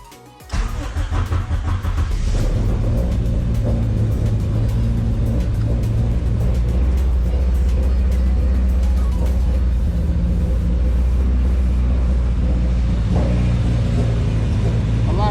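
A Honda Civic engine in a home build turns over and catches, then settles into a loud, steady running rumble close by, holding for over ten seconds with a brief rise near the end.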